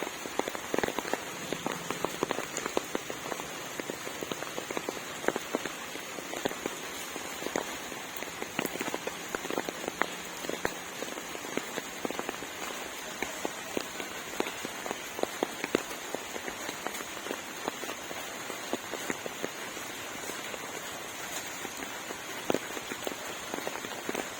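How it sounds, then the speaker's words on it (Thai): Heavy rain falls on surfaces in a steady, dense patter with scattered sharper drips standing out, continuous for the whole stretch, with no talking. "ขณะที่ฝนตกนะ"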